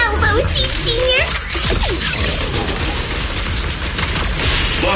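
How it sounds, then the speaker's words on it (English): Rapid gunfire salvo from a Zenless Zone Zero battle, loud and dense across the whole stretch with booming impacts, while character voices and game effects sound over it. "Give him a full salvo"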